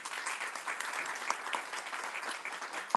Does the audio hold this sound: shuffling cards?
no